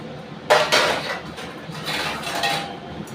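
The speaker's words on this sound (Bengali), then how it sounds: "দেখো থালা দিয়ে চাপা দিয়ে দিচ্ছি" A metal plate set as a lid over a pot of chicken cooking in a home kitchen, giving a couple of sharp metallic clanks close by followed by lighter scraping clinks.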